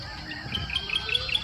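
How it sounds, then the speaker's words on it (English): Birds chirp in short, repeated high tweets at a moderate distance over a soft outdoor background hum, at a coastal rural spot near Catigan, Davao, Philippines. "Nice chirping of the birds."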